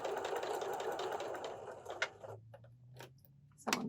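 A sewing machine stitches a quilt block, its rapid mechanical chatter steady and close for about two seconds, then easing into slower, sparser ticks and a low hum before a brief burst of stitching at the end.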